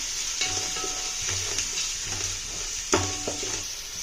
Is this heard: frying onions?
yes